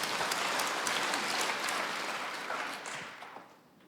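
Congregation applauding during a church service: a full, close wash of many hands clapping that holds steady, then thins and fades toward the end.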